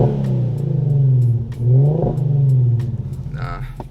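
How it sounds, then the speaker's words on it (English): An Infiniti car engine revs up and down several times close by, a throaty rising and falling drone with a few faint crackles near the end. "Give y'all a little rev or whatever, just so y'all can hear the pops."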